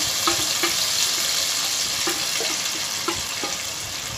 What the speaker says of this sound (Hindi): अब मैं इसमें करी पत्ता ऐड कर देती हूँ।